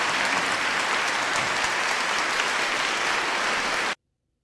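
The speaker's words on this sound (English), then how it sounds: "They deserve a proper round of applause." A dense, loud round of applause from a crowd, sustained evenly for about four seconds before cutting off abruptly into silence.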